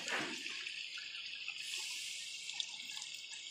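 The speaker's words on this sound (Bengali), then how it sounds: "এবার আন্দাজ মতন বন্ধুরা জল দিয়ে দেবো।" Water poured into a pot of sour curry with lentil fritters, a soft steady pouring splash that runs the whole time, faint and alone.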